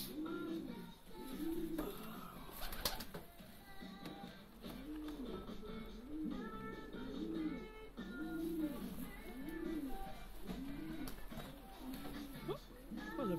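Racing pigeons, young widowhood cocks, coo in a loft with repeated low rolling calls in a steady rhythm, faint and close, with a background hum and occasional rustles.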